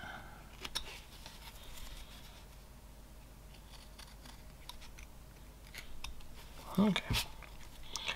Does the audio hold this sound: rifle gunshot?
no